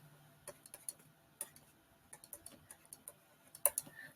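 Calculator keys tapped to work out a division, a string of light, sharp plastic clicks in an uneven rhythm, close and quiet with no talking.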